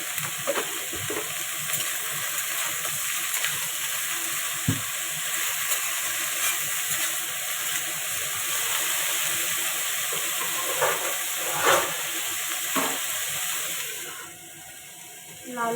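Jackfruit pieces fry in hot oil with a steady, dense sizzle and occasional stirring scrapes, continuing for the whole stretch and easing slightly near the end.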